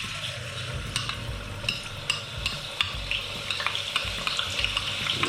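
Garlic sizzles in hot oil for a chilli garlic oil, a close, steady frying hiss punctuated by repeated clinks and scrapes of a utensil stirring the pan.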